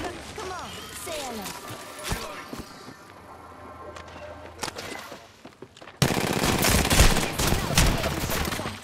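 Rapid bursts of gunfire in the Apex Legends battle royale, several enemies shooting at once, with a dense loud volley in the final seconds, heard under a player's talking.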